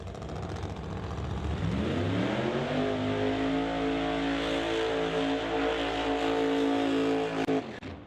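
West Coast Pro Mod drag racing cars roar through burnouts, the engines building from a rumble into a sustained, very loud high-revving scream that holds for several seconds before cutting off sharply.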